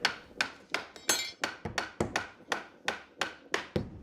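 Hammer tapping a new wooden floorboard into place during a floor repair, ten or so sharp, evenly spaced knocks about every third of a second, close and clear with no talk.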